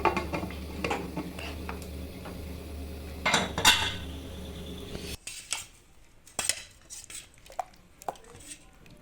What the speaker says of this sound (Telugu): మూత పెట్టేస్తాను